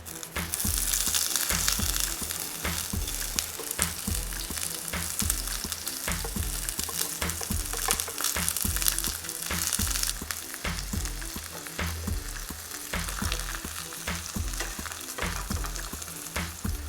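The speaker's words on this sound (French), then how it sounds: "J'ai mis un fond d'huile dans ma sauteuse. On va y incorporer les légumes pour les faire colorer." Red bell pepper strips fry in a layer of oil in a sauté pan, giving a loud, steady crackling sizzle with dense spitting pops and repeated stirring scrapes throughout, close up with no voices.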